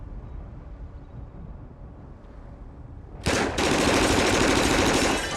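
Low rumbling ambience, then a sudden loud burst of rapid gunfire that continues steadily to the end, close and harsh.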